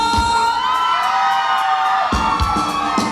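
A lively crowd at a wedding whoops and shouts together, loud and close, with a sharp bang and renewed yelling partway through.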